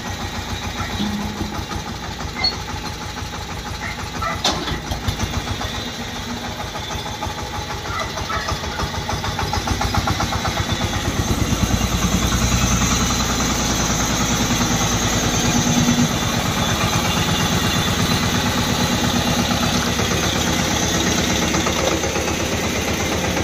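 A tractor engine idles steadily at a building site, a continuous loud mid-pitched rumble that thickens and grows louder partway through.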